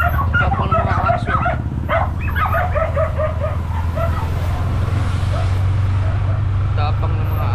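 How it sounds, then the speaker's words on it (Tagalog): Several dogs barking and yipping at a busy Saturday market, close and loud, mixed with a constant low engine rumble and people talking nearby. "Tapang ng mga aso."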